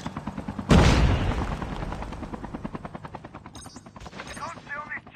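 Helicopter rotor chop in a Call of Duty battle royale match, a steady rhythmic thumping throughout, joined by a loud burst like a blast or gunfire near the start and scattered game effects toward the end.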